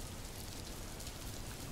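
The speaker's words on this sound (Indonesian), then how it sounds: "Terkena air hujan. Bajuku jadi basah." Steady rain falls in a children's cartoon, a soft, even patter on surfaces with no voices.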